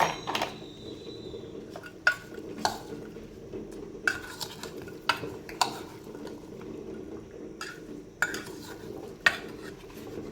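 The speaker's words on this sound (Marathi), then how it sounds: "आता हे सर्व मस्त आधी कालवून घेऊया।" Raw mango pieces being mixed with powdered sugar in a bowl, heard as scattered clinks and scrapes of a spoon against the dish over a quiet background, close by with no talking.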